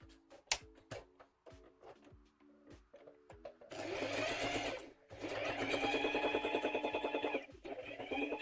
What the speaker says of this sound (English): You can't see the top of the sewing machine.